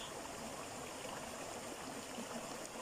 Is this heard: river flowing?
yes